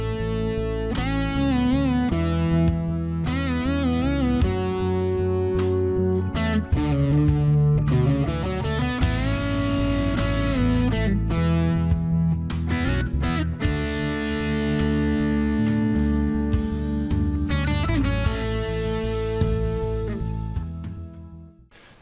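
A distorted electric guitar plays a slow, sustained melodic opening solo with bending, singing notes over a steady backing, loud and continuous throughout.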